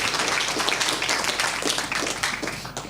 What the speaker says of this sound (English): You hear the claps?